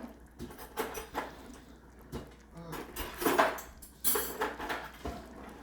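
Chili being mixed in a bowl: soft, irregular scraping and clinking of a utensil against the dish, close and fairly quiet, with brief louder knocks.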